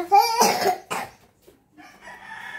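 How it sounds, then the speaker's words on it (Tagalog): A couple of sharp coughs burst out close by, followed by a brief pause and a faint, wavering voice-like tone. "Ubo lang ako eh."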